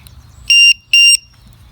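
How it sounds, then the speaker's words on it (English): Two sharp, high electronic beeps from a LiPo battery alarm for an RC model sound in quick succession, loud and close, against near silence. "so now it's beeping"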